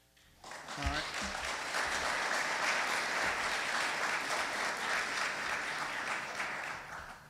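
A debate audience for the Alabama GOP Senate runoff between Luther Strange and Roy Moore bursts into loud, sustained applause that swells quickly and holds steady as a dense wash of clapping before easing slightly at the end.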